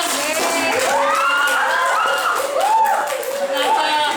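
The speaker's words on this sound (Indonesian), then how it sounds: "Oh, luar biasa, tepuk tangan." A classroom of students claps and cheers, lively clapping mixed with excited voices, shouts and laughter close by throughout.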